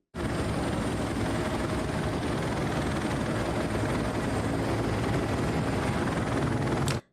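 A military helicopter's rotor drones steadily and loudly throughout, a constant throbbing engine roar that cuts off abruptly at the end.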